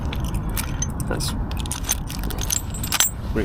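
Keys and a bicycle lock jangle and clink as a bike is locked to a solid post outdoors, a run of close metallic rattles over traffic rumble.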